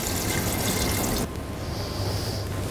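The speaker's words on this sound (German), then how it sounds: "Und einen kleinen Schluck Wasser noch dazu." Water splashes into a pot of braising red cabbage, a bright pouring rush that breaks off abruptly, then a quieter simmering hiss with a thin high tone; no one speaks.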